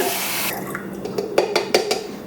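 Water poured from a measuring vessel into a container while mixing film developing chemicals, a steady splashing stream with a few louder glugs toward the end, close by and alone.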